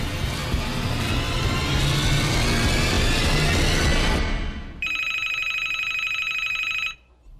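A telephone ringing in a Hindi-dubbed hacker film, a bright electronic ringtone that begins after a noisy, rising rush of sound and trills steadily for a couple of seconds before cutting off.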